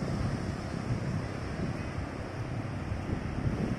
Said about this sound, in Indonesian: bisa terdengar deburan-deburan ombaknya.